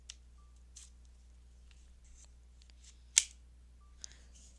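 Faint clicking from a Nintendo Switch 2 during data transfer. A few soft ticks are followed by one crisp, louder click and another light tick, with near silence between them.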